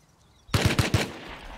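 A short rapid burst of automatic gunfire in the survival game Rust, about five sharp, loud shots in quick succession, followed by a fading echoing tail.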